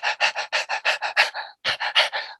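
A person imitates a dog panting with rapid, rhythmic, breathy huffs, about a dozen in quick succession, loud and close, with a brief pause partway through.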